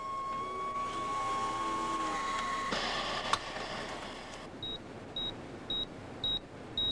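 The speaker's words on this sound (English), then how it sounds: "I programmed my terminal to beep whenever anyone logged into the lab." A computer terminal emits a series of short, identical electronic beeps at a steady rhythm, each a clean high tone, following a stretch of fainter machine hum and a brief click.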